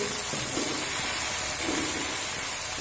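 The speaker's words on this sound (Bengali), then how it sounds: "তো পেঁয়াজটা একটু ভাজা হতে দেব" Minced onion fries in a pan with a steady, dense hiss that holds evenly from start to end, close and without speech.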